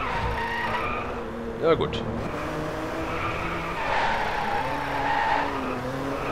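Car drifting through a drift zone in the DriveClub racing game, tires skidding with a steady droning engine and a sharp screech swell near the middle, while someone speaks briefly over it.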